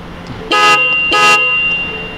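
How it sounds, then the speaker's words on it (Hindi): Two short honks from a newly installed horn on a Renault Triber, steady pitch, close and loud, separated by a brief pause, with no talking. "जरा हॉर्न जरा सुने कैसा आवाज़ आ रहा है"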